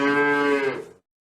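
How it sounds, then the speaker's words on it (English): A bull lets out a single sustained moo, close and loud, lasting about a second before it fades and breaks off into silence. "Bull."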